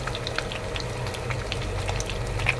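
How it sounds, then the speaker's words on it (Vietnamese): Battered fish fries in hot oil beneath a splatter guard, giving a steady close crackle and sizzle with scattered small pops throughout. "Khi chiên cá mình sẽ đậy lên cái tấm chống bắn dầu nha"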